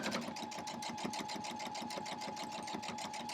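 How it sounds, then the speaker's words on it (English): A sewing machine stitches a seam down a crumb quilt block layered on pieced batting with fleece and flannel, a steady rapid mechanical chatter running close and continuous with no talking. "Now, sew it down."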